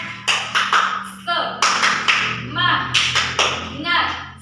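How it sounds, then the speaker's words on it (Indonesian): A primary school class stands and performs a rhythmic spirit clap (tepuk semangat) during a maths lesson, with sharp group claps in a steady repeating pattern and voices chanting along close by. "kita berdiri, kita tepuk semangat dulu"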